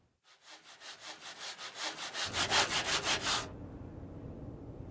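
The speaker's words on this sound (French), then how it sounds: "C'est l'enfer quand ça scie pas une scie." A hand saw cuts through a wooden plank in quick rhythmic back-and-forth strokes, building in loudness before stopping, leaving faint background hiss.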